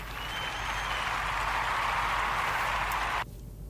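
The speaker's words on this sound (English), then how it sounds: "Let's clap it up for him." Applause for a football team's special teams coordinator, a steady wash of clapping that runs at an even level for about three seconds, then cuts off abruptly, leaving faint background hiss.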